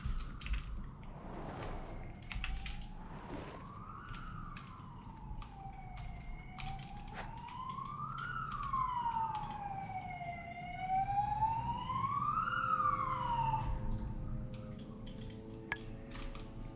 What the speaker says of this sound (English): Gotta love when the sirens stop when they're loud.